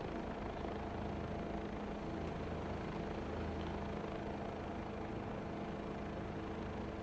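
Bell 407 helicopter in flight over Los Angeles in a PSVR 2 game, a steady, loud rotor and engine drone that holds evenly throughout with no voices.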